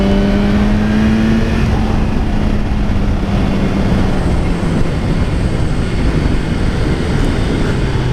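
A 2018 BMW S1000R motorcycle ridden hard with an up-and-down quickshifter, its engine roaring loud and steady with rising and falling pitch sweeps and heavy wind noise throughout.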